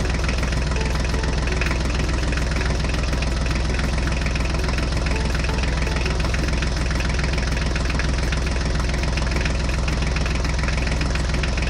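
Toy Mahindra tractor's engine running at a constant idle, a loud, steady knocking drone with rapid even pulses and no break throughout.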